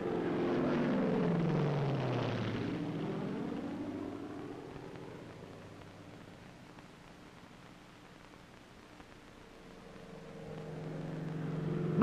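A military transport airplane, a U-1 Otter, passes low overhead on a cargo drop run, its engine drone loud at first then fading into the distance before another aircraft approaches at the end.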